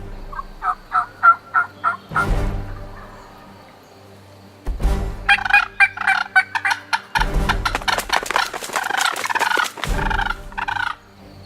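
A wild turkey gobbles repeatedly during a hunt, rapid rattling bursts coming in rhythmic series from fairly close by, with thumping handling noise and rustle in between and no talking.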